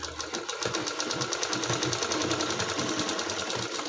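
A sewing machine runs steadily, stitching a shoulder seam on a garment with a fast, even mechanical chatter that holds close and loud throughout, with no voices.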